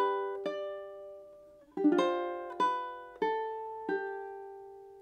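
A ukulele plays a short picked phrase from a song: a few plucked notes, then a cluster of quick strummed and picked notes ringing out, clean and close with natural decay between attacks.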